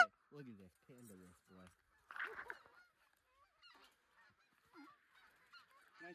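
Canada geese honking during a goose hunt: a quick run of three or four loud nasal honks up front, then softer scattered honks and calls trailing off, fairly faint overall with brief noisy bursts between.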